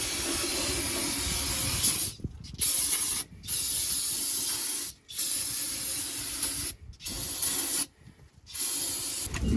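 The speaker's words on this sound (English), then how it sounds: "let's hit it with some brake cleaner" Bursts of brake cleaner sprayed from an aerosol can onto a rear differential, several loud close hissing blasts of varying length separated by short pauses, with no talk.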